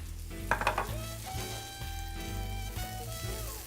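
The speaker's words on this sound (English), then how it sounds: "I can hear the vegetables going" Vegetables sauté in a hot pan, a soft continuous sizzle with a few brief clatters near the start, fairly quiet and with no talking.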